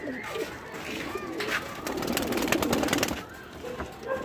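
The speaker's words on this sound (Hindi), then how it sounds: "काफ़ी अच्छे कबूतर हैं इनके" Breeder pigeons cooing in a loft in the Jammu region, soft low coos repeating over a noisy background with a rise in broadband noise midway, fairly faint and close.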